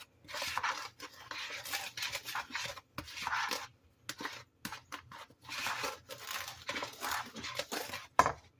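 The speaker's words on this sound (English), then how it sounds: "I got 1 cup of granulated sugar. I'm going to stir that up real good" A spoon scrapes and rubs through dry self-rising flour and granulated sugar in a bowl, giving repeated gritty strokes in close rhythmic bursts with short pauses between them.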